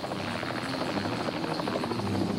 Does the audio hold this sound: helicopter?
yes